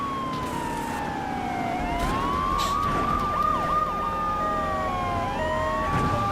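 An ambulance siren in the video game GTA3 wails and yelps steadily, loud and close, over a constant engine and road rumble with no voices.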